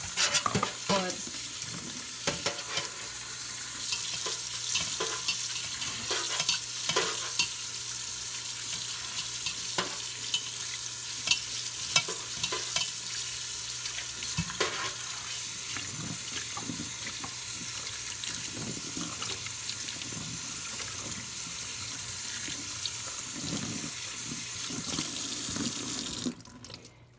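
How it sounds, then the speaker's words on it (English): Rice is rinsed in a bowl under a running kitchen tap, with continuous close water flow and splashing plus grains being swished and stirred by hand throughout, steady and fairly loud with no talking. "that is how I wash my rice"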